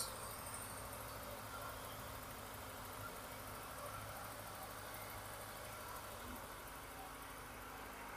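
A 2022 Kawasaki ZX25R motorcycle engine idles with a steady, even hum that holds unchanged for eight seconds and stays faint and distant-sounding throughout.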